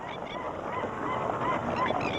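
A large flock of birds crowds a remote, undisturbed spot, with goose-like honks and calls overlapping in a continuous, busy chorus at moderate distance.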